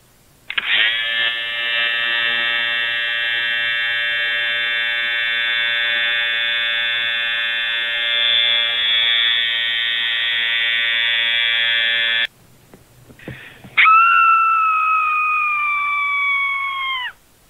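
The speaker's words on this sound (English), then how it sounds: "I'm gonna shave off all of your fur." A steady, high-pitched electric shaver drone runs for about twelve seconds, cuts out briefly, then restarts with a slightly different tone; an animated scene of shaving off fur.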